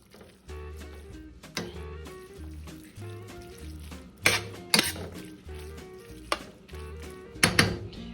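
Spoon scraping and clacking in a pan as chicken pastelillo filling is stirred with onion powder, a soft sizzle underneath, a few louder knocks, and steady background music, no talking.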